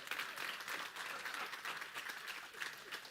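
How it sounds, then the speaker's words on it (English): Audience applause at a live talk, a steady wash of many hands clapping together, fairly even in loudness and moderately distant, lasting about three seconds. "You can applaud."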